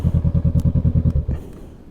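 A Honda Rebel 500 motorcycle rides along, its engine thumping in a quick, even pulse that fades slightly near the end; no one speaks.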